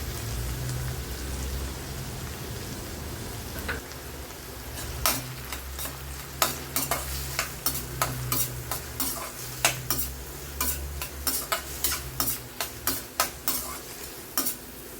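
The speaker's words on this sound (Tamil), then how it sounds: "2 பொடிசாக நறுக்கின வெங்காயம் சேர்த்துக்கலாம். ஒரு 2 மினிட்ஸ் இதை நம்ம நல்லா வதக்கிடலாம்" Chopped onions sizzle in a hot pan, with a spoon repeatedly scraping and stirring in quick, irregular strokes that grow busier toward the end.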